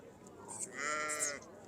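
Sheep and goats bleat at a livestock market in Talagang, a drawn-out bleat rising over crowd murmur and background noise, fairly close and moderately loud.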